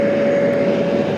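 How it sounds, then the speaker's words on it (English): Aircraft engines spool up at JFK airport as a TWA plane is unhooked for departure, producing a loud, steady roar with a constant whine held throughout. "Engines are starting."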